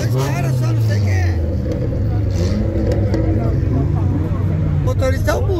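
Engine of a Lamborghini in the GTA video game, a loud steady drone with a low pitch that drops after about a second and then holds. Talking runs over it throughout.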